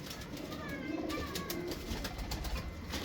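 Soft, low coos from chuway-breed pigeons murmur close by over a steady background hum, with a few faint chirps higher up.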